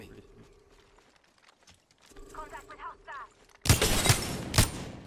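Gunfire in the Apex Legends video game, with quiet clicks and mechanical sounds at first, then a loud, close burst of rapid shots near the end.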